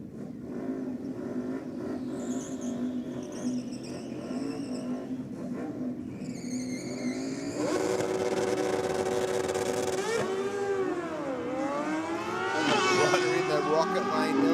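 A drag racing run at Sydney Dragway, with a loud race car engine roaring and rising through gear changes under an announcer's ongoing commentary.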